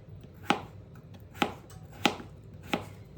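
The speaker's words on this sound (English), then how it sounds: "You can cube them, you can slice them in big slices, however you like your potatoes" A knife chops potatoes into cubes on a board in four sharp, evenly spaced strokes, close and distinct over a quiet background.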